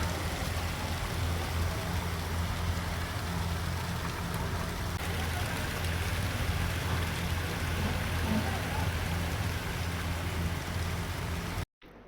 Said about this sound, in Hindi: यहाँ पे फिर से बारिश शुरू हो रहा है